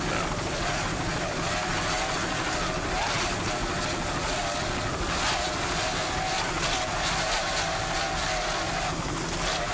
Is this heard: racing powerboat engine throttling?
yes